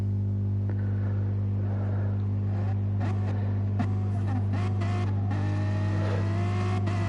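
BMW race cars in a racing video game sit on the grid at Laguna Seca, their engines droning loud and steady with a strong low hum as they rev before the start.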